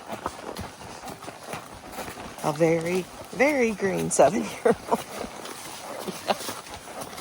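Horse hooves clip-clop on a trail ride in Missouri, running softly beneath a person talking close by.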